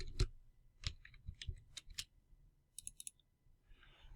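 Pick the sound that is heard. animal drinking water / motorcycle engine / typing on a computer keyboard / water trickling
typing on a computer keyboard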